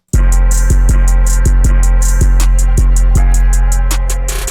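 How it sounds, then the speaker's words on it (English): A looping beat with a deep sustained bass and regular punchy kicks under bright, rapidly chopped hi-hat bursts, playing steadily and loud throughout. "just create kind of a stutter effect immediately after it"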